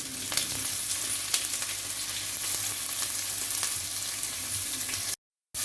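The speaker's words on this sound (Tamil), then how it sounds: "இதில் வந்து நம்ம அரிஞ்சு வச்சுருக்க வெங்காயத்தை வந்து இதில் போட்டு நல்லா ப்ரௌன் கலர் வர நல்லா வதக்க வேண்டியதான்." Chopped onions fry in hot oil for a vegetable biryani, a steady close sizzle with faint stirring scrapes throughout and no talk.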